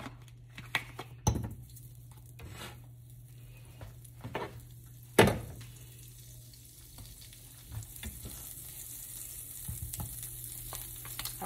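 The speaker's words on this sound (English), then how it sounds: "I'm going to add my butter in." Butter hits a hot pan before apples and pears go in, giving a steady soft sizzle and crackle under a low hum, with a few sharper clinks and stirring knocks scattered through.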